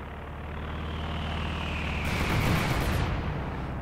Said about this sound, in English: Like in this fragmentation bombing run.